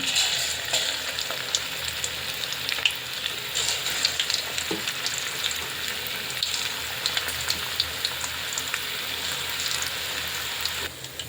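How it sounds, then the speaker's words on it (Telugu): Chicken pakodi pieces deep-frying in hot oil, a dense, continuous bubbling sizzle held close and steady for the whole stretch, with faint crackles and no voices. "మనకు ఆయిల్ అనేది వేడెక్కింది ఇప్పుడు ఒకటొకటి వేసేసుకుందాం పీసెస్"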